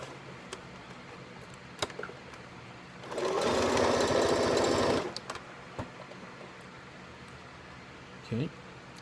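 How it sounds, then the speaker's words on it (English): A sewing machine stitches down a conductive patch in a quiet room, a near, loud, rapid rhythmic whirring burst lasting about two seconds, framed by scattered clicks and handling taps. "I have fixed the sewing machine, and I have finished the patch"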